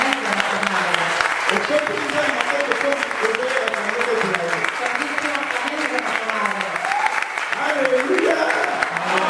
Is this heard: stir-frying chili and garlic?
no